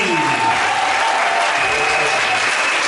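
A church congregation at a Sunday service claps in sustained, dense applause that fills the room evenly, with a sung or spoken voice faintly running underneath.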